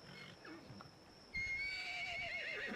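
An Equus horse in ARK: Survival Evolved gives a loud, wavering whinny that breaks in abruptly midway and continues to the end, with faint hoof clip-clops and chirpy tones beforehand.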